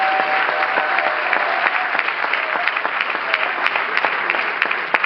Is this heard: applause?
yes